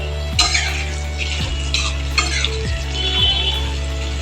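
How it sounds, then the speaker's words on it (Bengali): Two large chopped onions and two tablespoons of cashews sizzle loudly and steadily in a pan, while a spoon repeatedly scrapes and stirs through them over a constant low hum. "তা ভালো করে ভাজবো"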